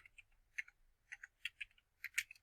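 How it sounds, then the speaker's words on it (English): Scattered, faint keystrokes tap on a computer keyboard while someone types into a search bar, the clicks irregular and quiet. "I know my typing's not great"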